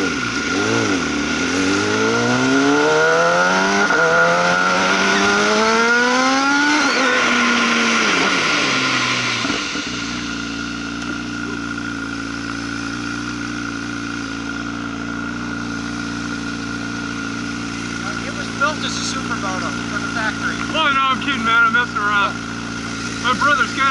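Dirt bike engine revving hard and rising through gears up close, then dropping to a steady idle hum while people talk over it.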